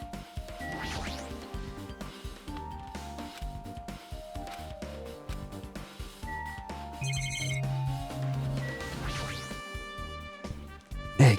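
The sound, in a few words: alarm clock ringing in video game Danganronpa 2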